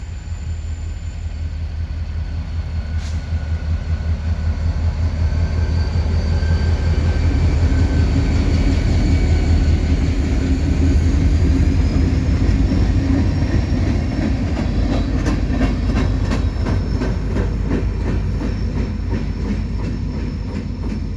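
B&LE freight trains pass at night with a continuous low rumble of locomotives, then a steady clickety-clack of railcar wheels over rail joints, loud and close throughout.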